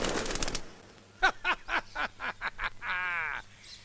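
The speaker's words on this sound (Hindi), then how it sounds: "अरे पंछी है, इसे मारेंगे का?" Bird calls with cooing, fluttery chirps in a Hindi film scene, a quick run of short repeated calls after an opening rustle, fairly close and clear over a faint low background hum.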